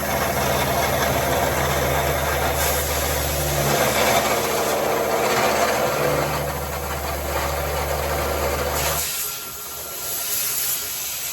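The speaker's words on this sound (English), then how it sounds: "So he's milling in the notch right here that the joint goes on." Milling machine cutting a notch into a Jeep Wrangler suspension part, a steady mechanical drone with a gritty cutting rasp that runs for several seconds before dropping away near the end.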